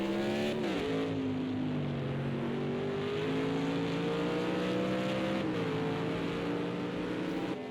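GT1 race cars from the 1998 FIA GT Championship in Project CARS 2 at the Nürburgring GP circuit, several engines droning and whining together in a loud, continuous roar as their pitch rises and falls with the gears.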